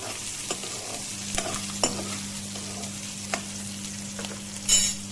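Chopped onions sizzle in a pan for an Amritsari pindi chole base, a steady frying hiss broken by scraping stirs and occasional louder clatters of the spoon against the pan.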